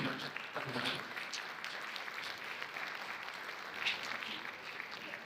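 Applause from a forum audience in Jamaica, a fairly faint, steady patter of clapping with a few brief voices mixed in, holding evenly across the whole stretch.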